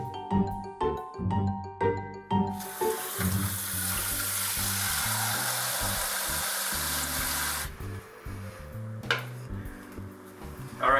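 Tap water runs hard into a pot being filled for boiling macaroni in a home kitchen, a loud steady gush for several seconds, framed by clanking of pots and utensils before and after.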